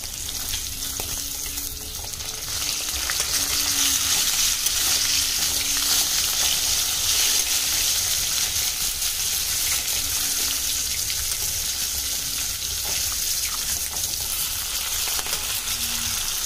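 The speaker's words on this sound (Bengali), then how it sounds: "মাছ ভাজা হচ্ছে আমার।" Fish fries in hot oil in a home kitchen, giving a loud, steady sizzle that runs unbroken for the whole stretch, close by and with no talk.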